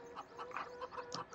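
Chickens in the Farming Simulator 2017 video game cluck in a quick irregular series of soft, faint calls with no talking.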